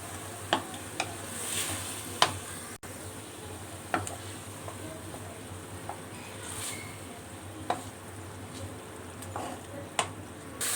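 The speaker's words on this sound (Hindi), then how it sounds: "अब इसको हम जो है 5 मिनट सही से भूनेंगे, लहसुन अदरक को और हरी मिर्चों के पेस्ट को।" Garlic, ginger and green chili paste fries in a pan with a steady soft sizzle, while a spoon scrapes and taps the pan at irregular intervals.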